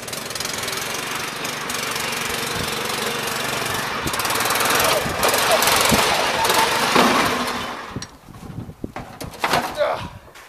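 A rough, loud riding lawn mower engine roars steadily, then cuts out into clattering knocks and thumps near the end.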